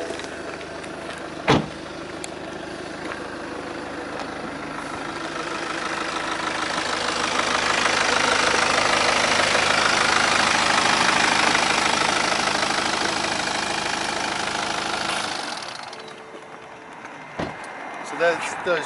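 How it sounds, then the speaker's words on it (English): Used BMW 3 Series idling with the bonnet open, a steady engine hum that swells louder mid-way as the listener moves close, then drops away, with a few clicks and thumps around it. "Keep the engine running so you can have a listen."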